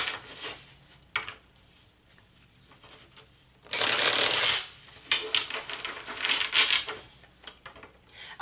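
Tarot cards being shuffled by hand in a quiet room, with soft riffling bursts and one loud, dense shuffle in the middle followed by lighter flicks and taps.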